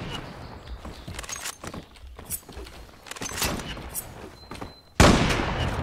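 Gunfire from the shooter game Zula, with scattered quiet shots and mechanical clicks, then a sudden loud burst of close shooting near the end.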